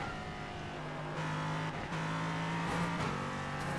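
A race car engine drones steadily at high revs on the Nürburgring at night in iRacing, close and loud, with small dips in pitch as the car shifts or lifts.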